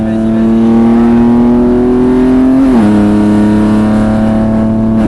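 A race car on the Mireval circuit accelerates hard, its loud, close engine note holding and rising slightly before a sudden drop like a gear change, then droning on steadily.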